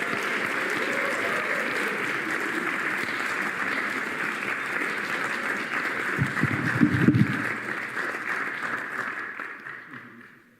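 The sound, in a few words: applause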